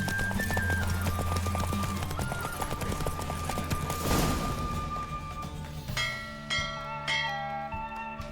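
Hooves clip-clop in a fast, steady gallop during a horse race in the video game The Witcher 3: Wild Hunt, alongside a musical score with sustained tones, the hoofbeats fading toward the end.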